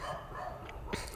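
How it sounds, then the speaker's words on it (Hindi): Several dogs bark and fight far off in the background, faint and muffled through a steady hiss. "जैसे कि आपको बैकग्राउंड में बहुत सारे डॉगीज़ की आवाज़ आ रही होंगी।"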